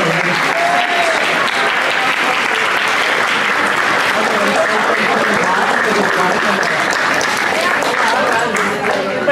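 Sustained, loud applause from a ballroom dance championship audience honoring the 2021 champion couple, dense clapping with crowd noise filling the whole stretch without a break.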